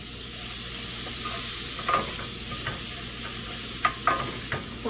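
A pot of food is stirred vigorously over a steady sizzle, with several distinct utensil scrapes and knocks against the pot, loudest near the end.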